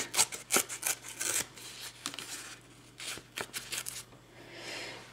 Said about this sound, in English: I'm just going to rip a few of the edges. Get a nice torn look.